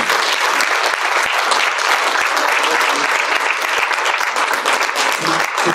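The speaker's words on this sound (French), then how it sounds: "Des applaudissements, s'il vous plaît." Audience applause for a princess attending a gathering, a loud, dense and steady burst of clapping from many hands that continues evenly for the whole stretch.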